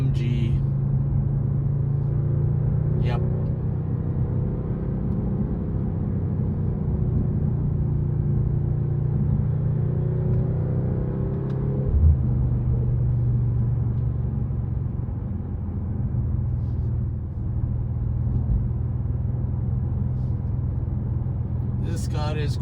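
A 2025 Mercedes-AMG CLE53 all-wheel-drive coupe's engine drones in a steady low rumble on the move, with road noise throughout and someone talking over it.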